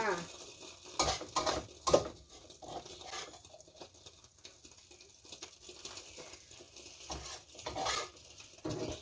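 Stir-fried filling is spooned into eggs frying in a pan, with soft sizzling and scraping spoon-and-pan clatters in irregular bursts, quiet and close.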